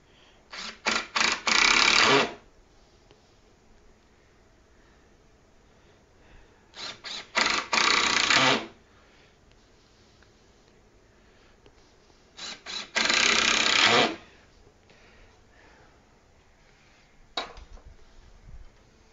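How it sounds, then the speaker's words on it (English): Impact wrench driving long bolts, heard as three loud rattling bursts of about one to two seconds each, separated by quiet gaps, with one short tap near the end. "The reason why I got this impact wrench was for these long ones."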